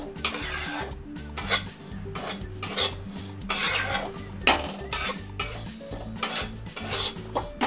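Halwa ingredients roasted in a pan for a Lakshmi puja offering, with repeated bursts of spoon scraping and clattering against the pan over a soft sizzle, loud and close.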